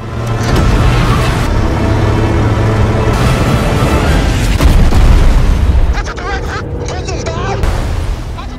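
A missile explosion destroys a bridge in the Korean War: a loud, sustained booming blast rumbles heavily for several seconds amid chaotic noise, then fades into lighter crackling and a voice-like sound.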